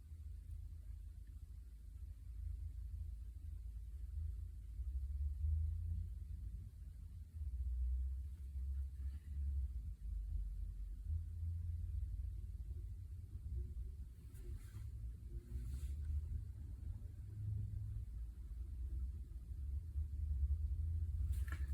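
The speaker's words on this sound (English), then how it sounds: "There's this truck outside and it's turning a corner" Outside at a street corner in Japan, a truck turns, heard as a low, continuous rumble that swells and recedes over about twenty seconds, faint and distant, with no one speaking.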